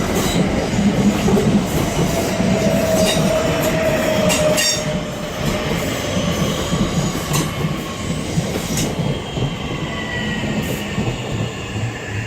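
A Southeastern Class 465 electric train pulls into Charlton station, a loud, close, sustained rumble with rail clatter and faint wheel squeal as it slows along the platform.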